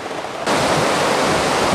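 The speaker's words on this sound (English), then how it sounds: "This is the River Meavy. It's in full flood because it's winter and it's been raining so much." The River Meavy in full winter flood, a loud, dense rushing roar of fast water that swells abruptly early on and then pours on steadily with no voices.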